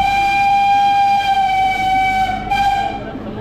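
Nilgiri Mountain Railway toy train on the Ooty line starting its journey, a loud sustained horn or whistle tone held steadily for several seconds over rumbling running noise, with a brief dip near the end.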